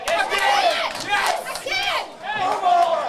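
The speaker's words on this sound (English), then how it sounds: "Robert Taylor from Argo, boxing up in front of his home crowd." A home crowd at an amateur boxing club show shouts and cheers in loud, overlapping bursts, with excited individual voices rising out of the noise.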